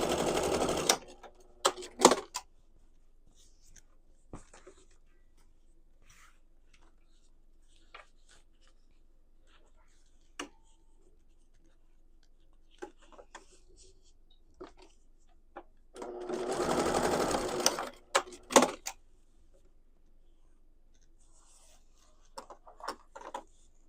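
Short bursts of a sewing machine basting straps onto a quilted tote bag with flex foam, rapid mechanical whirring in two main runs, separated by quiet stretches with light handling clicks and fabric rustles.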